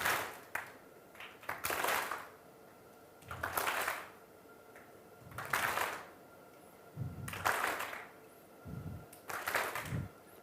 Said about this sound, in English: I should get only one clap the moment it touches the extreme point